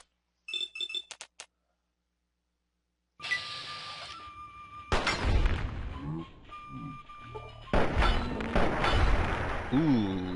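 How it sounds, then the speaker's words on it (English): A gunshot and gory head explosion in the video game Fallout 3, heard as sharp bursts of impact and debris with clinking and booming game effects, fairly loud, following a brief silence and mixed with background game sounds. "Ooh, nice and bloody. Gotta love a big head explosion."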